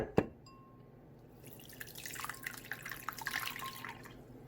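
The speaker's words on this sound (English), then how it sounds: "I'm adding the warm water to the honey to kind of melt it" Warm water poured onto honey in a cup for challah dough: a small click, then a soft trickling, splashing pour that grows and keeps going, close and fairly quiet.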